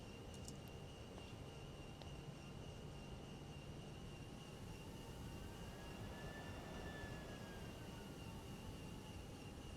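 A South African Airways Airbus A320 back taxiing on runway 26 at Hosea Kutako International in Namibia, heard from inside as a steady, even engine roar and hiss with a faint rising whine partway through.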